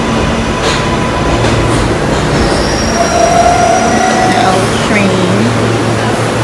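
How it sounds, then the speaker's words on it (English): A train rumbles past with steady rail noise, wheels squealing high above the continuous low roar, loud and close throughout. "Train."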